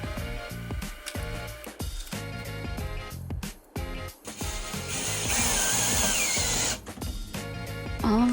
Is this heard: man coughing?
no